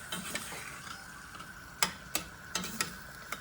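Meat sauce heats up and reduces in a pan, giving a soft continuous sizzle and bubbling with irregular small pops and ticks, several sharper crackles clustered toward the end, close and fairly quiet.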